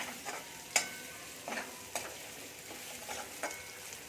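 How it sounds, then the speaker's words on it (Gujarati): Sliced onions sautéing in a pan for a dry pigeon pea curry: a quiet, steady sizzle broken by several soft scrapes and clicks of a spoon stirring, no voices. "આપણે ડુંગળીને સાતરી લઈશું"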